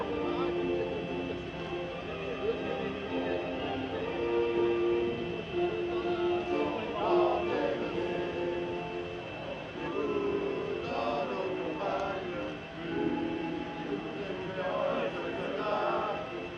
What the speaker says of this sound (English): And for them and him, the French national anthem.